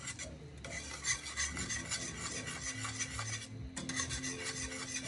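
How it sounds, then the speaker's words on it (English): Dairy-free caramel sauce ingredients, weighed out with salt, being gently whisked in a bowl, giving a steady scraping, rasping rhythm that runs for about five seconds with a brief lull near the start and another near the end. "Gently whisk."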